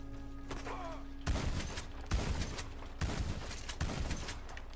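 Gunshots in Red Dead Redemption 2 Online, several loud sharp reports spaced about a second apart over a steady rumbling game background.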